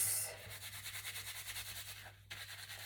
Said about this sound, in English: I chuck a bit of shampoo only on the roots, and I scrub the roots